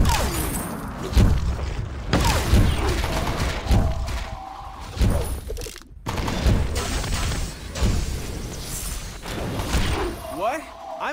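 Gunshots in Vainglory 5v5 jungle play: repeated punchy shots and thuds in quick bursts, loud and close, with a player talking over them throughout.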